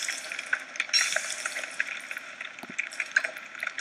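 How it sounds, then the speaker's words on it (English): Food cooking on a campfire in the Don't Starve video game, a steady crackling sizzle with a busy bubbling texture that runs continuously and fairly loud throughout, with no voices. "I'll cook up these birch nuts too."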